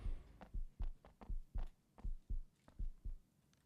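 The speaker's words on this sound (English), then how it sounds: "Why am I hearing a heartbeat?" A thudding heartbeat from the survival horror game ObsCure, about ten deep, evenly spaced double-thump pulses, loud and close with no talk over it.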